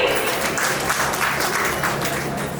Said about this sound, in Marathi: जोरदार टाळ्या सासूबाईंसाठी.